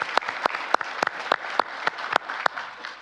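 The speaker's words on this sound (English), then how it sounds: "And so I would give you a round of applause for everything you're doing." Audience applause at an international conference on World War II history, heard as a run of sharp, evenly spaced claps at moderate loudness that carry on steadily for about three seconds, with no voices over them.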